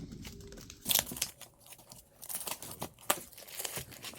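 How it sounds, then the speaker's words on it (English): Tape is peeled and torn off a tennis shoe in a run of close, crinkly ripping bursts, with louder tears near the start and again later in a quiet room. "So let's remove this tape."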